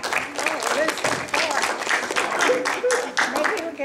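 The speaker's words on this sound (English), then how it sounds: "I think they deserve a round of applause." A small group at a garden club meeting claps indoors, a steady patter of applause with voices speaking over it.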